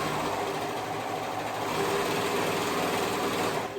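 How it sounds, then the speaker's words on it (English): A serger runs steadily while sewing a construction seam on stretch fabric for an ear-warmer headband, a loud, even mechanical whir that continues without pause for about four seconds. "I'm using my serger just because I always like to use my serger for construction."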